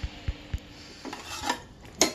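A metal pot set down on a kitchen stove, three light clinks in quick succession followed by scraping and a brighter clang, close and clear with no talking.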